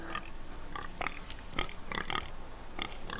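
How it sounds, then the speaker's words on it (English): Pigs in a video game grunting and oinking over a steady game soundscape, with a series of short snorts spread unevenly through the moment. "Oh, stinky pigs."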